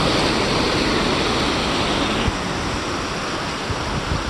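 A car drives through deep flood water on a rainy day in Sun Valley, Los Angeles, making a loud, steady rushing wash of water that fills the whole stretch, with a brief thump partway through.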